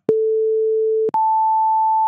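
Steady pure tones generated in Audacity play alone: one lower-pitched tone holds for about a second, then after a short gap a higher tone sounds and sustains.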